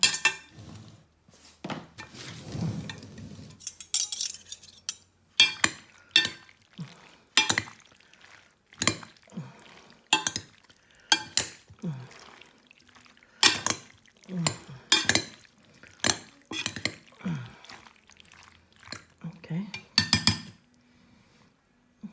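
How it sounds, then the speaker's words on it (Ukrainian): A utensil scrapes and knocks against a pan while pasta mixed with chicken meat is stirred, repeated clinks and taps in an uneven rhythm, close but fairly quiet, with occasional speech between. "М'ясо ми змішали з макаронами, вимішуємо"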